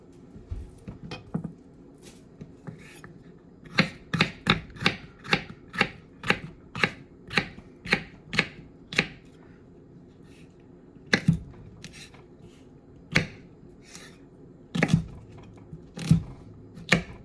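Knife cutting and de-seeding a jalapeno on a cutting board for a brisket pot pie, a run of sharp evenly spaced chops and taps, close and crisp, then a few scattered cuts after a pause.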